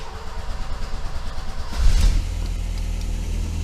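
Ford Orion 1.3 petrol engine turning over and catching, then a quick rev that settles into a steady, loud idle close by, with no talking.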